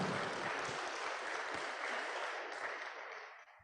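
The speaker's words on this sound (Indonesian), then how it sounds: "Kita tepuk tangan dulu ini." Audience applause at an engineers' oath-taking ceremony at Universitas Muslim Indonesia, a dense steady clatter of many hands filling the room, holding level and then tapering off toward the end.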